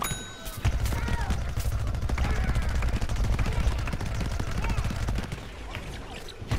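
A pea gatling plant in the video game Plants vs Zombies 2 fires a rapid, steady stream of popping shots during a boss fight, a loud continuous rattle that carries on almost unbroken from start to end.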